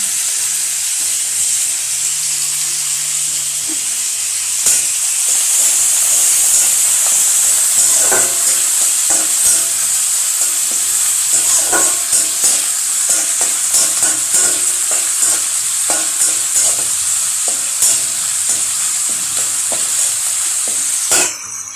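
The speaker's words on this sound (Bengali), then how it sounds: "থেতু করা রসুনটা দিয়ে দেবো।" Crushed garlic frying in a hot pan with onion for a fish-head, bottle gourd and tomato dish: a loud continuous hiss and sizzle with frequent stirring scrapes throughout, no voices.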